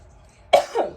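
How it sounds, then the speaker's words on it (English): A person coughs twice in quick succession, close and fairly loud, the first cough sharper than the second, after a moment of quiet. "Now I'm coughing, y'all."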